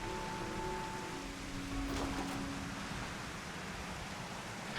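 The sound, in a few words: rain falling in the video game Final Fantasy XIV, Labyrinthos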